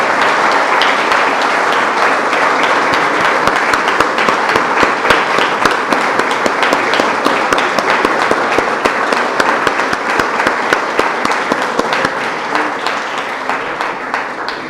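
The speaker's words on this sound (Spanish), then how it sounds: "pido un gran aplauso para la memoria del compañero Anselmo Matarrita Fonseca" Loud, sustained applause from a crowd at an 85th anniversary party tribute, honouring a late comrade with long, dense clapping that holds steady before easing slightly at the end.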